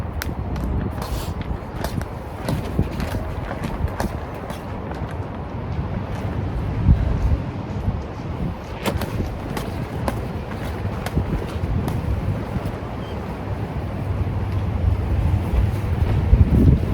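Fierce wind buffets the microphone outdoors while a tarp shelter is set up, a steady loud roar with gusts and rumble throughout, and faint speech may be present beneath it.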